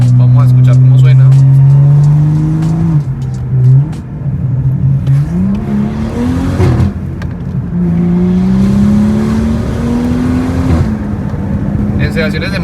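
A BMW M235i engine pulls steadily while driving, a loud, continuous tonal drone whose pitch climbs, dips at gear changes and climbs again, filling the whole stretch.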